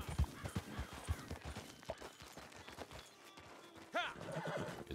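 A horse whinnies in Red Dead Redemption 2 Online, a rising, quavering neigh near the end, after a stretch of clip-clopping hooves and thuds, with faint game ambience throughout.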